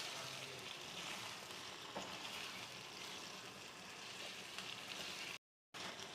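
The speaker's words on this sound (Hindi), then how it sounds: "अच्छी तरह हम मिक्स कर लेंगे।" A pan of chicken white karahi sizzles and fries steadily as paste is stirred in, a constant soft hiss with faint scraping touches, briefly cut to silence near the end.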